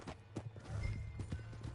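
Horse hooves clip-clop in the Red Dead Redemption II video game, a quick run of close, distinct hoofbeats over under two seconds, with no voices.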